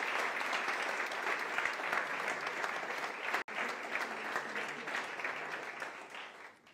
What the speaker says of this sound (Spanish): vamos a empezar dándoles ya el aplauso primero para agradecerles ese esfuerzo